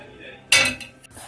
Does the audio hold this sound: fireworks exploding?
no